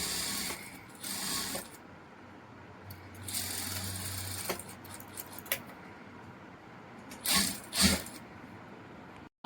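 A sewing machine stitches a garment neckline in short, close bursts of rapid mechanical whirring, separated by pauses with cloth handling and small clicks.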